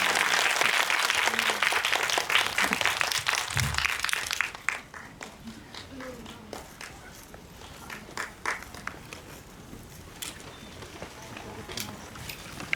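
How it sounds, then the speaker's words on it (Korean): An audience at a film festival screening applauds, a loud and full burst of clapping that quickly fades to scattered claps, footsteps and low movement around the hall. "큰 박수 부탁드립니다."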